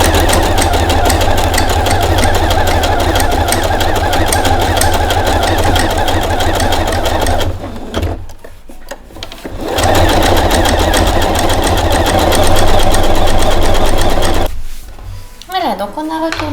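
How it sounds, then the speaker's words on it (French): A sewing machine runs a continuous zigzag stitch around the edge of a fabric bib, a loud steady mechanical whir that pauses briefly twice before resuming. "je vous propose un petit point zigzag tout autour"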